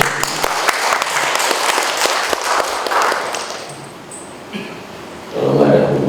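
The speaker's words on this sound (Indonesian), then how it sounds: "Kasih tepuk tangan dulu." A round of applause from the audience at the opening ceremony of a government training program, clapping near and lively at first, then fading as someone begins speaking.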